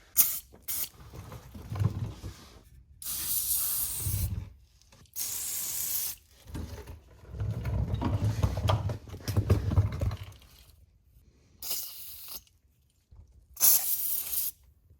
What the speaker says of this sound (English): we're gonna just take a little bit of PB blaster and we are going to blast them